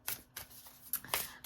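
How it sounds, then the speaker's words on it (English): A deck of tarot cards is shuffled in a few soft, quick riffling bursts, close and fairly quiet. "I'm shuffling."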